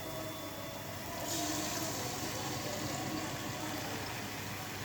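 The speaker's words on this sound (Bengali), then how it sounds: "এখন ডিমটা ভাজে নেব" Egg frying in a pan with fried onions, a steady broadband sizzle lasting throughout at moderate, even level, slightly swelling after the first second, with no talking.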